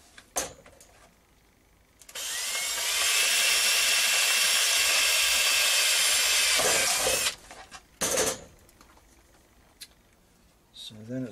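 A power drill bores a 1/4-inch hole through a plastic bottle in a single loud, steady burst of about five seconds. Brief clicks and handling noises come before and after it.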